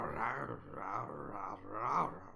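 A human voice growls in a low, rough series of rolling bursts, imitating a bear, close and continuous for a couple of seconds with three swelling peaks.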